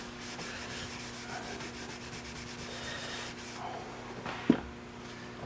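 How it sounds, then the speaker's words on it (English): Cloth wiping wood stain off a cabinet door: soft, repeated rubbing strokes, close and quiet under a faint background hum, ending with one brief sharp knock. "just wipe it off"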